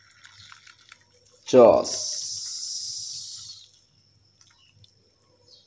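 Hot water poured over cut fruit for rujak, a short spoken word, then a steady hissing splash of pouring that lasts about two seconds before fading to quiet.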